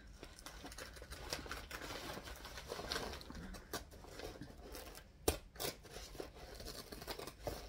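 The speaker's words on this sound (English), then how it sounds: "I'm just going to use the zigzag scissors for the curve" Zigzag pinking scissors cut fabric with quiet, repeated snipping and rustling, and one sharper crunch near the end. There is no talk.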